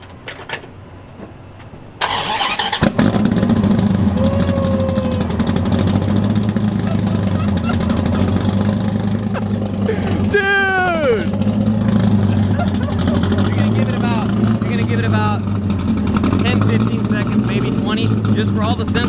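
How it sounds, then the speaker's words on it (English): A modified car engine, Gen 4 or Gen 5 with heads and cam, cold-starts after a brief crank, then settles into a loud, steady idle that holds flat near the microphone, with a chirp partway through. "The first startup, cold start"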